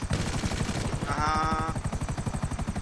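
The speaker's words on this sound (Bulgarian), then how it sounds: "това е хеликоптер ли?" A helicopter in the video game GTA 5 gives rapid rotor chopping, a dense rhythmic thudding that runs throughout, with a brief higher mechanical whine in the middle and no talking.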